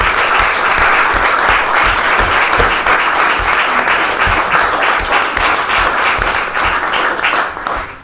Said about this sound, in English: why don't we give all of our presenters a round of applause